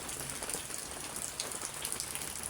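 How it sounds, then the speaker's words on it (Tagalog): Steady rain patters on a surface, a dense even hiss with scattered drops, no voices. "Umuulan."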